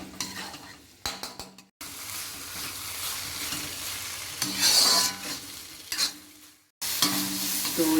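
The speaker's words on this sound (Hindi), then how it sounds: "पनीर को हम चलाते हुए 2 मिनट तक भून लिए हैं" Grated paneer bhurji with spices fries in a pan while being stirred, with a continuous close sizzle, scraping strokes and occasional clinks of a utensil against the pan, broken by a few brief pauses.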